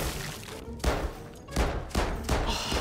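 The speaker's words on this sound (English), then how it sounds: "This is a silenced pistol" A silenced pistol fires in the VR zombie shooter Arizona Sunshine 2. Four or five muffled shots come at irregular intervals, each a short, punchy thump over constant game background noise.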